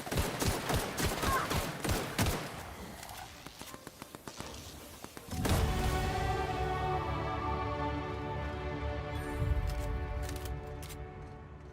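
Rapid bursts of enemy gunfire from a gunner foe in The Outer Worlds video game, a fast rattling volley in the first seconds that gives way to a louder, sustained roar of combat noise.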